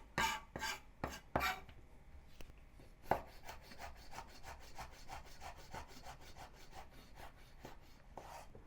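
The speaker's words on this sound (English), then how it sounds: "cut the chili into strips" A knife cuts chili into strips on a cutting board, opening with a few heavier separate chops and then settling into a steady, fast series of light taps, close and quiet.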